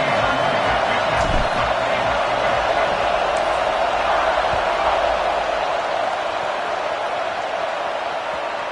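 Stadium crowd in the NCAA 25 football video game at an Alabama kickoff: a steady, broad roar of cheering that holds throughout at a constant level, with no clear talk over it.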